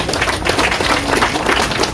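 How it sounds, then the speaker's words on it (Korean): Dense, steady applause from an audience honouring the committee behind the Syngman Rhee–Truman statue at the Dabudong war memorial in Chilgok. Many hands clap together, loud and sustained for the full two seconds. "이분들께 박수를 한번 보내주시기 바랍니다"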